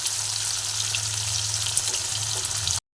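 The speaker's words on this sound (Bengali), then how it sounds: "পেঁয়াজটা ততক্ষণে ভাজা হোক" Steady, loud sizzling of onions frying in hot oil, a continuous crackling hiss with faint kitchen clinks, cutting off abruptly near the end.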